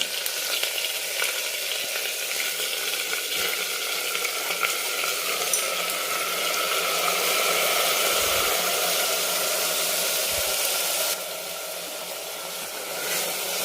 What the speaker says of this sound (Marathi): आणि छान आपल्याला ह्या तुपामध्ये परतून घ्यायचे.